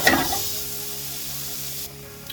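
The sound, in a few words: beans sauteing in pan for chicken xacutti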